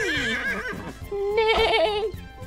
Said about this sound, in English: Oh, a horsey.